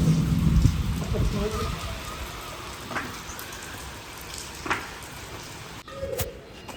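Heavy rain pours steadily on a surface in a Pakistani village, a constant hiss with occasional louder drips and a brief rumble at the start.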